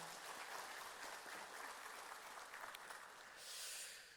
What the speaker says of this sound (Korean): 우리 그들을 격려하면서 박수 한번 할까요?